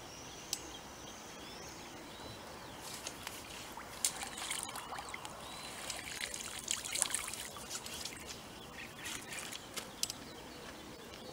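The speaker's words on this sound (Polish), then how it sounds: "karaś wraca do wody." A crucian carp caught feeder fishing during a competition is let go back into the water, giving soft trickles and a few small splashes that are close but faint against a quiet outdoor background.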